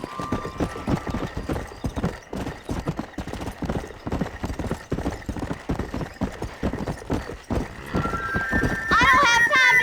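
A horse gallops in Red Dead Redemption with steady, rhythmic clip-clop hoofbeats running throughout, a brief whinny near the end, and game music and ambience layered underneath.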